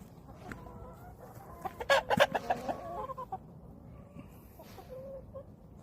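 A flock of hens and roosters clucks and squawks nearby on a farm, with a burst of sharp overlapping calls in the middle fading to scattered murmurs.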